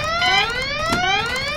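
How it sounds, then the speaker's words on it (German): An electronic alarm blares in the Goodbye Deponia adventure video game, a steady stack of wailing, slowly rising siren-like tones that sounds continuously and fairly loud throughout. "Da schaut der Alarm aus."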